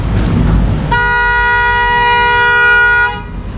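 A steady car horn blares loudly for about two seconds outside a roofing sheet shop in Nueva Ecija, Philippines, a sustained harmonic tone over background rumble, then cuts off.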